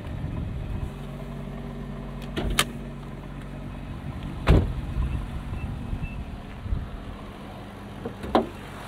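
A 2023 Nissan GT-R Premium with a 3.8-liter twin-turbo V6 drives along in a steady low cabin rumble, with a few brief clicks and knocks over the continuous road and engine drone.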